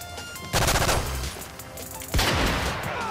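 Gunfire in Call of Duty Modern Warfare 3 during a trickshot private match, two sharp loud bursts of shots with echoing tails, no talking over them.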